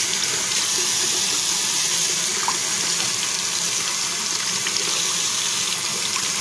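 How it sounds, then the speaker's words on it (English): Warm water runs steadily from a tap into a sink, a close, even gushing hiss that holds without a break. "Run warm water right over their private."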